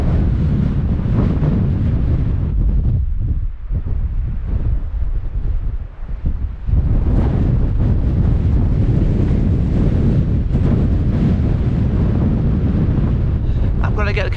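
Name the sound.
strong wind on Scottish coast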